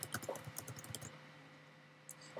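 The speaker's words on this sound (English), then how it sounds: "And I'm just going to type out Bridgewater." Quick bursts of keystrokes on a computer keyboard, close and crisp for about a second, then a pause and a couple more taps, with no voices.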